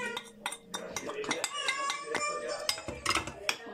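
Spoon clinks and scrapes against a bowl as sauce ingredients are mixed for burrito sauce, with irregular clattering taps throughout and faint speech in the background.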